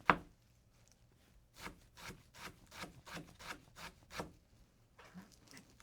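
Fresh herbs bunched together are push-chopped with a Japanese knife on a wooden board, about ten evenly spaced, close, dry cutting strokes following one sharp knock.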